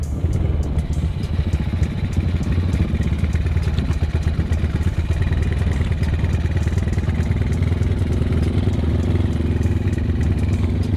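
A Honda Tiger motorcycle engine running steadily up close, a loud, continuous throbbing putter with mechanical clatter throughout and no break.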